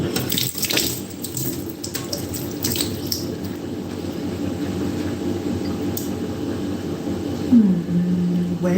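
Tap water runs steadily into a kitchen sink while a cutting board is rinsed, a close, continuous splashing hiss lasting the whole time with small clatters near the start.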